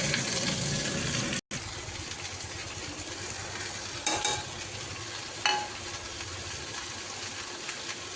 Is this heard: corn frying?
yes